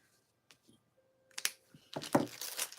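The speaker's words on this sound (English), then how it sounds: "I'm going to write your name down." Quiet scratching of a pen writing a name on paper, a few faint taps at first, then a louder burst of quick strokes, close by with no talk.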